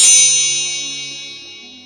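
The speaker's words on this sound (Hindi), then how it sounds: "वहाँ पर सुनहरे रंग की एक छोटी सी प्यारी सी घंटी आ जाती है" A small golden magical bell rings once with a bright metallic ding, its shimmering high tones slowly fading over about two seconds, clear and alone with no voices.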